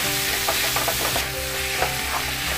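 Chopped tomatoes going into a pan of sizzling onion, ginger and garlic for a Kerala-style nadan chicken curry, with a loud crackling fry and scraping stirs, no voices.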